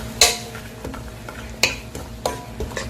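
Sweet potato stems with fish sauce being stir-fried over low heat in a pan, a soft background sizzle broken by a few distinct scraping and clinking strokes of a utensil against the pan at uneven intervals.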